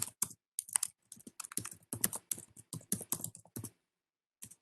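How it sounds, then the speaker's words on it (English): Keys clatter on a computer keyboard in bursts of quick, irregular keystrokes while a design drawing is being annotated, clear and close with short pauses and no talking. "and then start typing."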